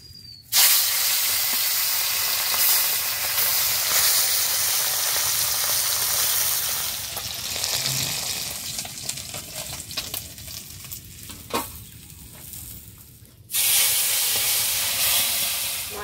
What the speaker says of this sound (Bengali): কড়াই অনেকক্ষণ হচ্ছে গরম হয়ে গেছে, দেওয়ার সঙ্গে সঙ্গে তেলে গুটি গুটি গুটি হচ্ছে